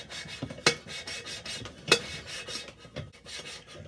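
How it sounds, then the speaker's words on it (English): Valve being lapped into its seat on a Cat 60 tractor cylinder head, a soft gritty rasping rub repeated in back-and-forth strokes, with two sharper scraping peaks, close and fairly quiet. "So now I'm going to lap it and see what the pattern on the valve looks like. Now I'll lap the valve."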